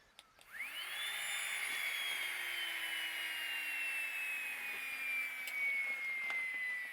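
A small pump motor spins up with a sharp rising whine, then holds a strained, slowly sagging tone as it struggles and seems to be dying, steady and fairly close with no talk over it.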